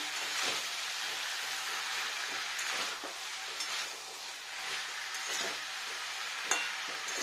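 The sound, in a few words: stirring and sautéing broccoli in a pan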